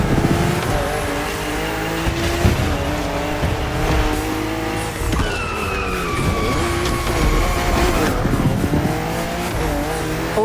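Several BMW M cars race on a narrow, twisting circuit in The Crew Motorfest, their engines droning and revving continuously with brief tire squeals and skids, loud and close without any voices.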